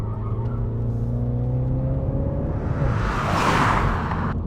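A Mini JCW being driven, its engine a steady low drone heard from inside, with pitch shifting slightly as it runs and a brief whooshing rush of air near the end.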